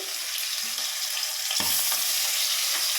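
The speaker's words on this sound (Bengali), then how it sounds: "মাছের মাথাটা দুটো কড়াই দিয়ে দেবো, এটা ভেজে তুলে নেব।" Hilsa fish heads fry in oil in a wok with a steady, close hissing sizzle and one brief clatter of stirring partway through.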